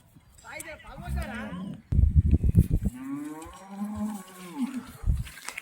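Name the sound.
black and white HF cross cow mooing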